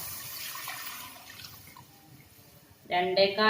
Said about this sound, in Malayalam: ചട്ടി ഇവിടെ ചൂടായിട്ടുണ്ട് അതിലേക്ക് ശർക്കര ഉരുക്കിയ വെള്ളം ഒഴിച്ചു കൊടുക്കുക